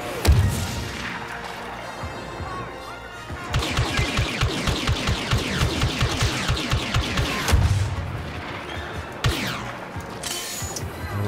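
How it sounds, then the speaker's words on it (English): Rapid gunfire rattles in the Star Wars: Battlefront 2 video game: dense bursts of shots with short pauses, loud and continuous through most of the stretch, with a few heavier booms. "I got somebody way the fuck over there shooting at me"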